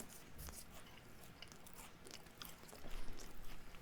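Crunchy biting and chewing of a British military ration cereal bar, close to the mic, with soft crunches and mouth noises over low background hiss and no talking.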